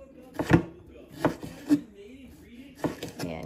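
Knife chopping tomato, onion and cucumber on a cutting board at home, a few separate sharp thunks spaced irregularly, close and clear, with no speech over them.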